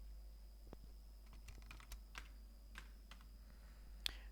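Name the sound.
typing text on a computer keyboard in Photoshop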